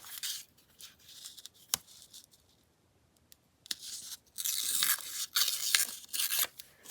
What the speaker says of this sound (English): keep tearing those sideways and then it messes them up